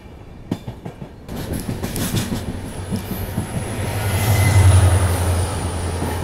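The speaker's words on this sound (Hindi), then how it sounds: "अभी उस तरफ यशवंतपुर वास्को डी गामा यानी गोवा एक्सप्रेस क्रॉस होने वाली होगी" Yesvantpur–Vasco da Gama Goa Express, a diesel-hauled passenger train on the Miraj–Bangalore route, passes close by with steady wheel rumble and rail clatter, building louder toward the end as a low diesel drone swells.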